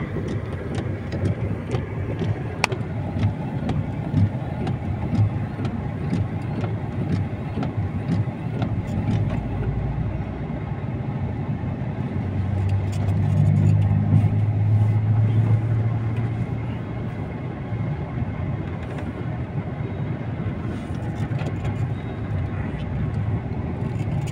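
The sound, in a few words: car being driven into position for wheel alignment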